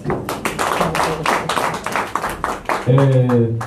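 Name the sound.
audience applause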